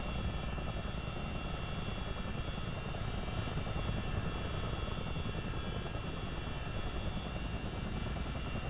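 A CH-47D Chinook tandem-rotor military helicopter taxiing at a forward base in a flight simulator game, with a continuous engine and rotor drone that stays steady and even, moderately loud, with no talking over it.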